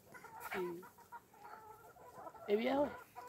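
Chickens and roosters on a farm cluck and call nearby in two short bursts of clucking, with quieter rustling and faint sounds between them and no clear talk over the birds.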